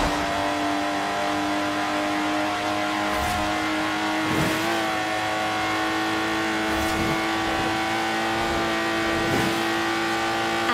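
A Lotus Exige engine in the Forza Horizon racing game holds a strong, steady high-pitched drone with brief surges of revving and faint tire noise, loud and close, no voices.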